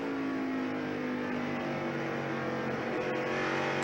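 Onboard NASCAR stock car engine at the 1994 Slick 50 300, coming off a corner and backing out of the throttle. It is a loud, steady, close-up drone with a slight dip in pitch near the end, and no talk.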